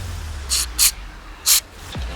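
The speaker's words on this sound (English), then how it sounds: "So we're getting good spray now." Three short, sharp hisses of aerosol cleaner sprayed through a dirt bike carburetor in quick succession, close by, with quiet pauses between them.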